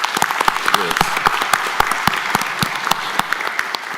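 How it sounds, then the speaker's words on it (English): A round of applause for a pastor at a county board of commissioners meeting, a smaller crowd clapping with distinct individual claps, a voice briefly audible over it. "Give him a wonderful round of applause"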